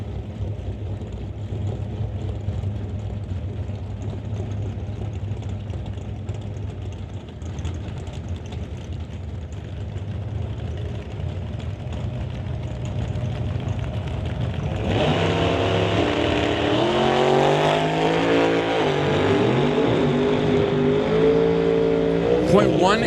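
Drag race at an NHRA Summit ET Series event between a Chevrolet S10 and a hardtail dragster: engines idle and rumble under an announcer's voice, then surge into a loud, rising, revving roar as the cars launch.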